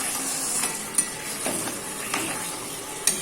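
Chicken gravy sizzles steadily in a pan with a small splash of water as a spoon stirs it, a continuous frying hiss broken by a few sharp scrapes and taps of the utensil against the pan.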